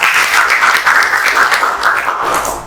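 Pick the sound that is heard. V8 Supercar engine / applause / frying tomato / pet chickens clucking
applause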